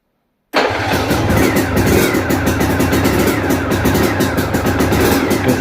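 An Aprilia RS 125 motorcycle that sat unused for years starts abruptly after silence and settles straight into a loud, steady, close idle with a raspy two-stroke buzz.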